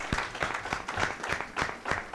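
An audience applauds Miss Kenya at a MindFest 2021 event, a short spell of moderate, fairly distant clapping with a loose, uneven rhythm.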